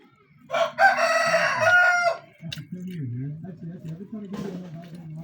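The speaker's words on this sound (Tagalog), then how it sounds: "Kakain daw ang manok ko. Ang ingay." A rooster crows loudly in one long call, and then a person talks while softer clucking continues underneath.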